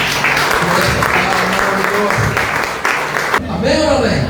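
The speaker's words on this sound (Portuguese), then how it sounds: "aplauda o Senhor por essa" A church congregation applauding after a sermon, a dense wash of clapping that fills most of the moment before breaking off into a single voice speaking.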